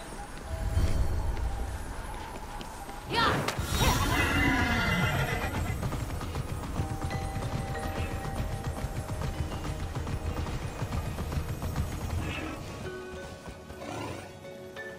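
A horse in the video game Immortals Fenyx Rising gives one loud, wavering whinny early on, set over clopping hooves and continuous game ambience that carries on for the rest of the stretch.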